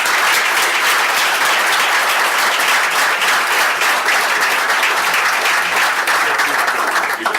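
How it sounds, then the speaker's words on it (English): Steady, dense applause from an audience at a public meeting on a campus in Harrisburg, Pennsylvania, loud and sustained from start to finish with no speech over it. "Let's give these folks a big round of applause."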